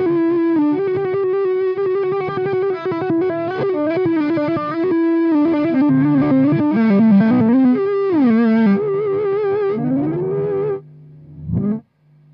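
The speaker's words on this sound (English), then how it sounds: "We've got our delay set to maximum, our mix right the way round" Guitar played through a TC Electronic Nova Delay pedal with delay time and mix both at maximum, giving a dense, continuous wash of repeating notes and swirling echoes that stays loud throughout before cutting off near the end.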